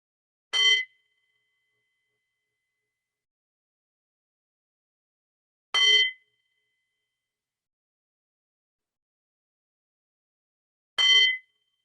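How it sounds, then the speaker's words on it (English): A bell rings three times, each a single clear strike fading quickly, spaced about five seconds apart with silence between. "we'll begin with the sound of 3 bells."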